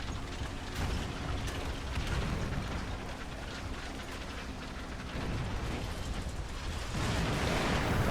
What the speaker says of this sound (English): And that was artillery, so let's back out of here.